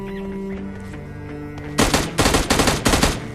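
Automatic gunfire in the PUBG Lite shooter game, a quiet stretch of background game music followed by four loud, rapid bursts of shots fired in quick succession.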